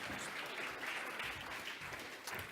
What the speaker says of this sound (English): Give me a round of applause, everybody.